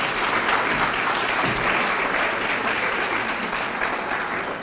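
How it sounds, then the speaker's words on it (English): Audience at a Windsor High School Athletic Hall of Fame 2021 ceremony gives the MC a loud, sustained round of applause, dense continuous clapping filling the room throughout with no talk. "if I could just ask for another round of applause for a great MC, Mike Christina"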